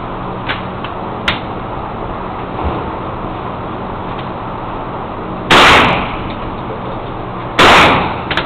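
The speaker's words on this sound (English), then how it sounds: "Shooting with a 30-30 rifle." Two loud, sharp gunshots from a Marlin 30-30 rifle at an outdoor gun range, about two seconds apart, each cutting through a steady low background rumble.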